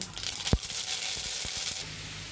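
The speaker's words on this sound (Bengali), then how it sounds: "এখন গোটা সরষে দিয়ে দিব।" Whole mustard seeds dropped into hot oil in a pan with fried dry red chillies, giving a sudden close sizzle and a few sharp pops over a steady frying hiss.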